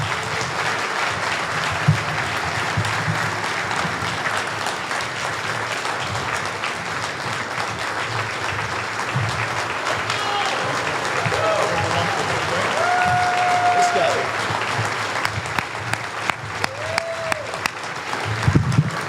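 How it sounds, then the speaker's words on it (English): An audience at the Warren County Lincoln Reagan Dinner applauds Vivek Ramaswamy with sustained, dense clapping. It continues loudly for many seconds while a speaker talks over it. "Give him another round of applause"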